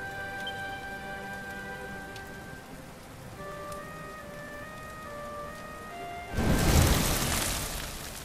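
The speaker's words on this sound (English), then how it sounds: "Looks like the rain's dying down." Steady rain patters on surfaces in the video game Dragon Quest XI, an even background hiss beneath soft music, swelling into a louder rushing burst near the end.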